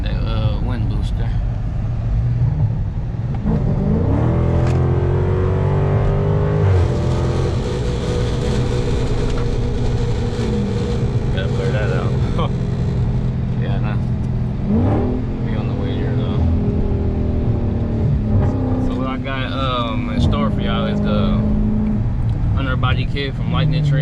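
Dodge Scat Pack muscle car cruising on a highway, a loud, continuous engine and road drone with shifting tones as it accelerates, while someone talks over it throughout.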